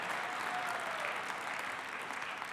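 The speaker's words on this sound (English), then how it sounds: "give him a round of applause" A convention hall audience at the 2018 New York State Democratic Convention applauds for Mario Cuomo, a dense, even roar of many hands clapping that continues steadily, somewhat distant.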